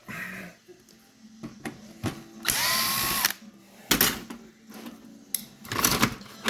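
A power drill backs a screw out of a 2004 Panasonic Viera TC-32LX20 LCD TV being scrapped: several short, close whirring bursts, one long run, with clicks and handling noise in between.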